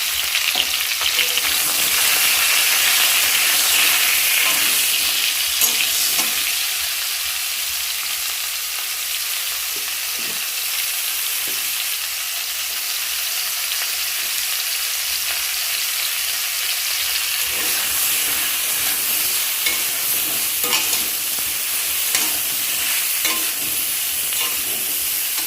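Sliced pointed gourd fries in hot oil with salt, giving a constant loud sizzle and crackle, with occasional stirring scrapes in the pan and no voices.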